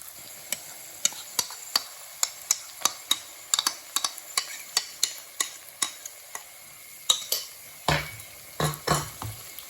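A spoon stirs chicken thoran, chicken with grated coconut, in a pan, tapping and clinking against the metal in a steady rhythm over a soft sizzle, then scraping more heavily in a few loud strokes near the end.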